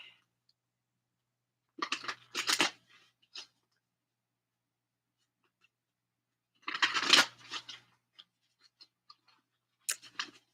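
A deck of science-themed tarot cards being shuffled, two short riffling bursts of cards with a few small taps and a brief flick near the end, close and quiet with silence between.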